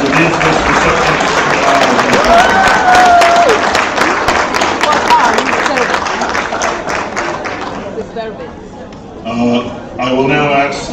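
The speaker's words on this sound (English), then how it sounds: "Let's give another big round of applause to the business receptionist." A large audience at an award ceremony claps loudly and steadily, a dense wash of applause that thins toward the end as a voice begins speaking.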